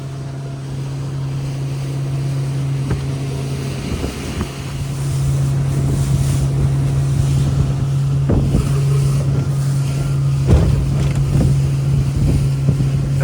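A single-engine motorboat running at about 4,000 RPM and roughly 28 mph across a bay, a loud steady engine hum under rushing wind and water spray, with hull slaps through wakes in the second half.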